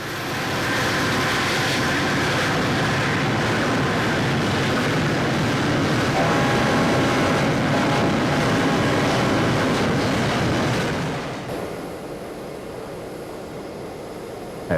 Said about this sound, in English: we came across a rather dirty-looking freighter on the new standard gauge line, hauled by a BL and a C-class